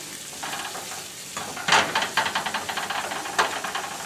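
Onions sizzle in butter in a pan with a steady, close hiss, and a series of soft rhythmic scrapes and stirs joins partway through, with no voices.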